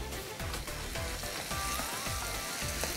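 Beef lagan pulao rice stirred with a spoon in a hot pot, a soft, continuous crackling sizzle with dense small pops and scraping, close and steady, with no talking.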